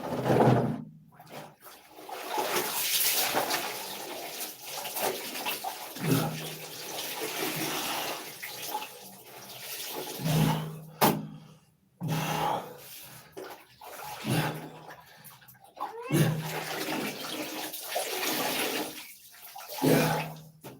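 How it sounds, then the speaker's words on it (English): A household toilet flushes with chlorinated water, giving a long, loud rush of running and gurgling water that surges and breaks off several times with short pauses, close by. "let's think now about flushing this toilet"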